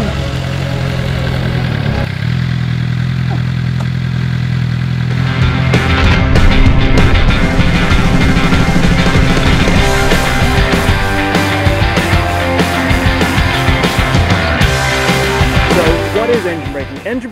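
Motorcycle engine braking, a loud steady engine drone that shifts after a few seconds into a rougher, busier roar with changing pitch, with talking likely mixed in.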